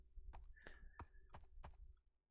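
A horse walking in Minecraft, five distinct clip-clop hoof thuds in an even rhythm, quiet and close, alone without talk.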